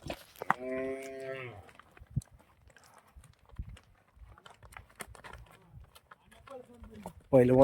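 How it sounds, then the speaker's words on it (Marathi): A bull gives one loud, close moo near the start. Quiet knocks and brief voices follow in an otherwise calm setting. "आता सर्वात मोठं माप म्हटलं तर हा एक बैल आहे"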